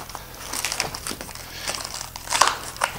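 Plastic packaging wrap being carefully peeled off a boxed Diabolical Slipstream, with crinkling and crackling bursts close up, growing louder near the end.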